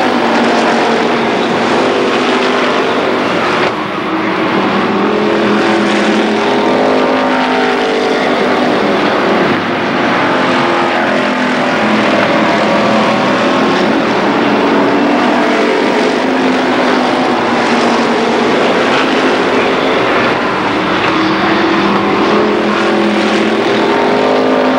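Race cars roar around Columbus Motor Speedway during the Labor Day Championships, a dense, continuous engine drone that stays loud and steady throughout with no voices.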